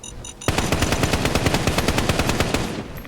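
Rapid automatic gunfire in Fallout 4, a loud steady burst of evenly spaced shots starting abruptly after a brief quiet moment and running to the end.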